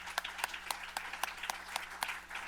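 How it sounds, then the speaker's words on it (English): At a policy livestream event, an audience gives a round of applause, heard as sparse, distinct claps at a fairly regular pace over a low steady hum, somewhat distant and quiet. "why don't we give him a round of applause?"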